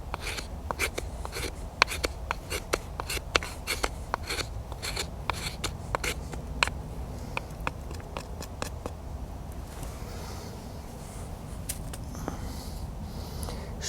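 A Mora Bushcraft Black survival knife scrapes with quick, rasping strokes in a steady rhythm, close and moderately loud, each stroke a crisp scratch that thins out toward the end.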